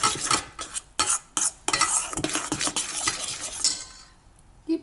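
A spoon scrapes and clinks briskly in a bowl while soup dumpling dough is stirred together with an egg, irregular bursts of stirring that ease off and fall quiet near the end, no talking.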